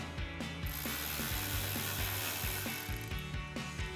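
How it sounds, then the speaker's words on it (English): A hand ratchet fitted with a 7mm swivel socket tightens a hose clamp during a Ram cold air intake install, giving rapid, close, evenly spaced metallic clicks in quick bursts. "Snug this up with our 7mm swivel socket"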